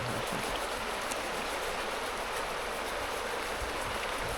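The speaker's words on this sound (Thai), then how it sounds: "หลานน้อยเพิ่งกำลังตักน้ำ" A mountain stream runs steadily near a village in a deep valley, a continuous broadband rush of water with no clear scooping splashes standing out.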